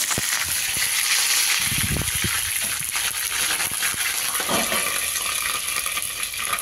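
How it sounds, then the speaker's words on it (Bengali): Cauliflower florets sizzle in hot oil in a wok, a constant loud frying hiss with a few sharp clinks and utensil scrapes near the start. "আমার তেল গরম হয়ে গেছে, আমি দিয়ে দিলাম ফুলকপিটা।"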